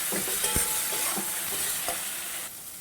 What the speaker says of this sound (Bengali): একেবারে পরিমাণ মতো বা স্বাদ মতো নুন দিয়ে আবারও ভালো করে ভেজে নেব